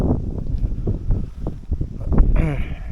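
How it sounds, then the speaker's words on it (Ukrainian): Steady wind blowing across the microphone in open air while fishing, a continuous low rumble and buffeting with faint rustling throughout. "Вітер піднявся."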